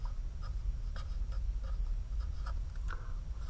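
Chalk or marker taps and strokes on a board while electron configurations are written out, a run of short scratchy marks with no talk.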